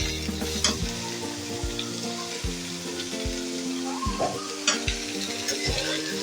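Vegetables go into a pan of softened frying onions for noodles, giving a loud, close, steady sizzle punctuated by repeated stirring scrapes and knocks, with no voices.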